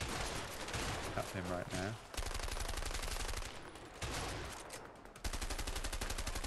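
Rapid automatic gunfire rattles in bursts through a shootout in the video game A Way Out, loud and close, with short gaps between volleys while a player talks over it.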